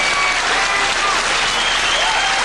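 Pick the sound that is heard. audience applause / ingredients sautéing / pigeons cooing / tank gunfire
audience applause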